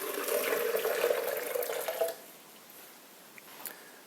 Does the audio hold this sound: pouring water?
yes